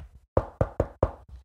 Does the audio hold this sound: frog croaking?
no